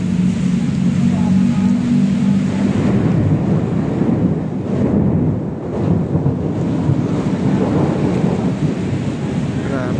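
Heavy rain pours steadily near Jones Bridge in a downpour, a loud dense wash with low rumbles like distant thunder and gusts buffeting the microphone throughout.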